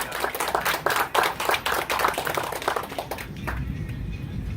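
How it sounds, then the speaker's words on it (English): Lively applause from an audience at a beach wheelchair event speech, packed claps rolling on for a few seconds and then tapering off into quieter background noise. "give them a round of applause"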